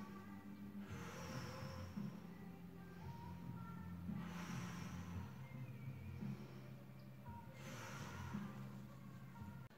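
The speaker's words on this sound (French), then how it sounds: "placez les deux mains sur votre ventre et faites 3 grandes respirations" Three slow, deep breaths drawn in and released during a gentle wellness exercise, each a soft, close airy rush spaced a few seconds apart.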